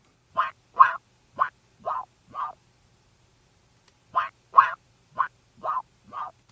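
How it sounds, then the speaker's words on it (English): A sampled toy guitar through a fuzz wah effect plays two phrases of five short, fuzzy, wah-swept plucked notes, quacking and rhythmic, separated by a pause of about a second and a half. "And then I put this fuzz wah effect on it."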